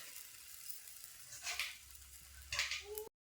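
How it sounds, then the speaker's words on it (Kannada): Aloo paratha frying in oil on a hot griddle, a steady soft sizzle with a couple of louder hissing swells, quiet and close. "ನೋಡ್ರಿ ಹಂಚಿಗೆ ಪರೋಟ ಹಾಕೊಂಡಿವಲ್ರಿ"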